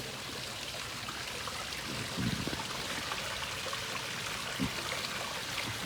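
Water spills over a waterfall into a newly built 1100-gallon above-ground backyard pond, making a constant close splashing pour with a couple of heavier gurgling surges.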